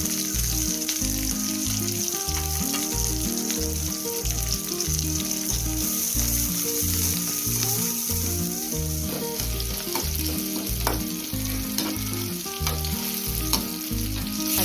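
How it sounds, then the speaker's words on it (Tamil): Shallots and curry leaves sauté in hot oil with mustard seeds for bisibelebath. The sizzle and crackle are loud, steady and close, with a faint rhythmic stirring under them throughout. "சின்ன வெங்காயம் கருவேப்பிலை எல்லாம் போட்டு நல்லா வதக்கிடலாம்."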